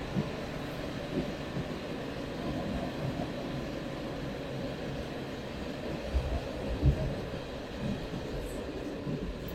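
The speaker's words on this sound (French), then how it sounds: "on peut apercevoir la locomotive" Retro train with a tricolour-liveried locomotive running near Meaux, a steady broadband rumble and rolling noise holding throughout with a few louder knocks, moderately close and without talk.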